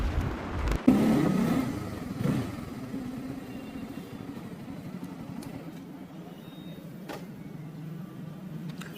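A 2024 Bajaj Pulsar N250, a 250cc motorcycle, accelerates hard on a test ride. A steady low engine rumble mixes with road and wind noise, with a sharper burst near the start, then a sustained drone with no talking.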